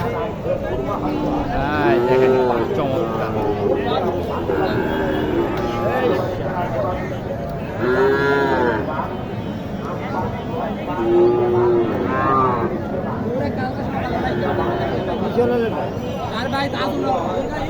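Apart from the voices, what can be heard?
cattle mooing at a cattle market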